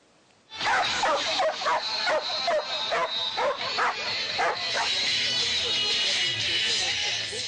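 Several dogs bark in quick, overlapping bursts after a quiet start, then settle into a busy mix of yips and whimpers among background chatter at a dog breed show in Nilüfer, Bursa.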